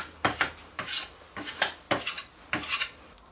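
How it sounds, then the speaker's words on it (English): Repeated rasping strokes of a blade scraping saw marks off an ABS plastic frame, about five close, even passes in a steady rhythm, alone. "just go through and give it a light scraping and get rid of those saw marks"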